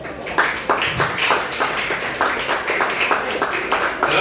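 An audience claps in fast, rhythmic unison for a third-place poetry competition winner at a school literary event for International Mother Language Day, loud and close for the whole stretch.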